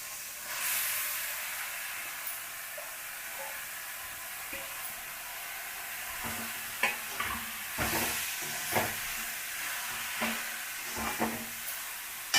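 Puffed rice goes into onions frying in oil in a pan, with a steady soft hiss and sizzle and scattered light clicks and scrapes of stirring, fairly quiet and without talk.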